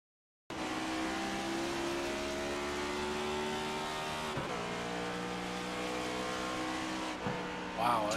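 Race car engine in iRacing at Talladega, restarting while stuck in second gear, drones loudly and steadily with a sustained held pitch, dipping briefly partway through before a short rise near the end.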